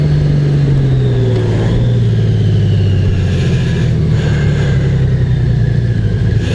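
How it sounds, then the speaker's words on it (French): A 2024 Honda Goldwing Bagger six-cylinder engine with DCT gearbox accelerates on the road, a loud steady close rumble with a falling tone as it shifts, wind noise underneath. "Ça fait le bruit d'une Porsche."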